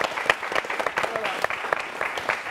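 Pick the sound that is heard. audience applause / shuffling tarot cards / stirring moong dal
audience applause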